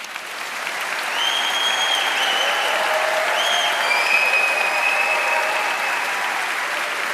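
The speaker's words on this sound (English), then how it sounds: "join me again in applauding this wonderful collection of graduates" An audience at a university graduation ceremony applauds the graduates, with sustained, dense clapping that swells in the first second and then holds steady and fairly loud, with faint whistles or cheers above it.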